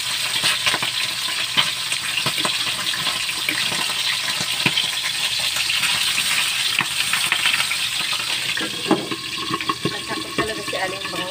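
Milkfish (bangus) frying in a pan of hot oil, a loud, steady spitting sizzle with crackling pops that runs throughout, close and without talk.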